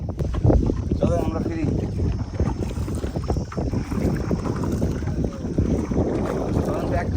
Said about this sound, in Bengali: ডিঙি নৌকায় ভালো লাগে তবে সতর্ক থাকতে হয়